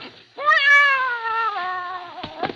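A cat in a 1948 radio drama lets out one long, clear, wavering meow that sustains for nearly two seconds, close and prominent, with faint noises at the end.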